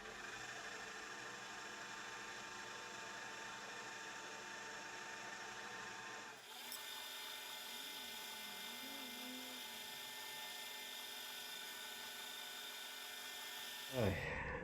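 A drill bores a small cross hole through a Sheridan lathe leadscrew shaft, giving a steady high whine that shifts pitch midway and stops abruptly near the end.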